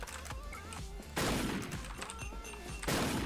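Heavy sniper rifle shots in a first-person shooter game fire as two loud, sharp blasts with long ringing decay, one at about a third of the way in and another near the end, over a steady background of game sounds.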